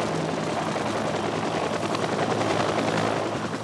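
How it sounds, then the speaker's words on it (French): A South Vietnamese military helicopter heard close and loud, its rotor and engine drone holding steady for the whole stretch with no voices over it. "on va essayer d'y aller par hélicoptère, si on trouve un hélicoptère sud-vietnamien qui veut bien nous emmener"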